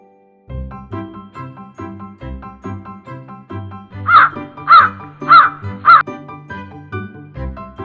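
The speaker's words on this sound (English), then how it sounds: "Raven." A raven calls four times in a quick, evenly spaced series of harsh, loud croaks over a soft background tune that plays before and after.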